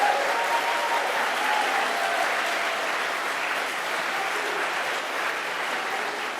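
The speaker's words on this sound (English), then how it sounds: "I appreciate you keeping your applause to the end there" Sustained applause from the audience at a Labour Party leadership debate between candidates, a dense, steady wash of clapping that holds evenly for the whole stretch with no voices over it.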